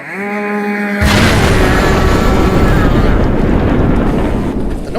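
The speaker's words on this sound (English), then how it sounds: "The noise of gunfire brings out the harbor police." A loud burst of gunfire effect erupts after a second of tonal sound, then a sustained dense crackling roar of shots and blasts fills the rest of the clip, used as a sound effect in an audio reading of a Pat Patriot comic.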